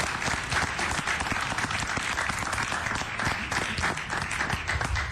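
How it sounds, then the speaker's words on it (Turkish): A studio audience on a Turkish TV show claps continuously, dense and even for about five seconds, with no speech over it. "Alkışlarınızla."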